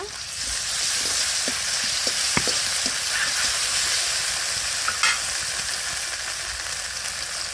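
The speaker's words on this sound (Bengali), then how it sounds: "এখন দিয়ে দেবো মরিচ বাটা জিরা বাটা" Chili paste and cumin paste fry in a pan for a pangas fish and potato curry, producing a steady dense sizzle punctuated by occasional clicks of stirring.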